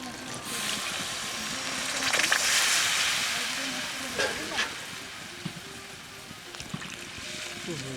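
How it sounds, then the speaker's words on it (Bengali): Water goes into a pot of sautéed mutton curry, setting off a steady loud sizzle and hiss with a rushing pour and light clatter over a few seconds. "মাংস কষানো হয়ে গেছে, এখন জল দিয়ে দেবো।"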